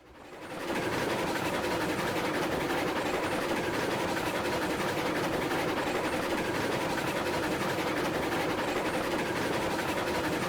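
A steam train with six cars rolls along the rails in the Railroads Online video game, a steady, loud mechanical rumble that carries on without a break from start to finish.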